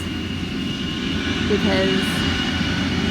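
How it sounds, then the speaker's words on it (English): A steady engine rumble from a passing maintenance vehicle at a cemetery fills the background, swelling slightly midway, with a brief spoken word over it. "oh, excuse the noise, maintenance guy driving by."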